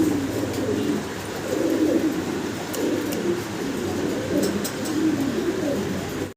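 Fancy pigeons coo in a steady, overlapping chorus nearby, the low throaty calls rising and falling in waves, with faint clicks and rustling from the birds.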